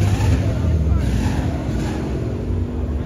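A Volkswagen Gol's exhaust gives a deep, continuous rumble, steady and fairly loud with a roaring, wind-buffeted texture.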